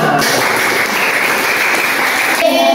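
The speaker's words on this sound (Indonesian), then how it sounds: "Tepuk tangan untuk kita semua." Applause from a classroom group after a simple electrical circuit demonstration, a steady dense patter of clapping that runs nearly three seconds and breaks off near the end, with a voice briefly coming in.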